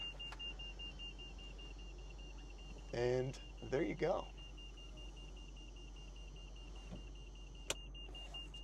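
A steady high warning tone sounds throughout while an electric motor whirs briefly as the convertible top of a 1998 Mercedes-Benz G500 Cabriolet moves; a person speaks quietly.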